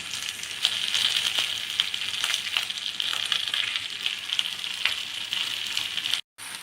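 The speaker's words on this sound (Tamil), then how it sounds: "இப்போ நம்ம கீரை போடணும். முருங்கைக்கீரை இதிலே போட்டுருவோம்" Drumstick leaves sauté in a pan, a steady, bright frying hiss with a few faint ticks of stirring. The sound runs evenly with no talking until a brief dropout near the end.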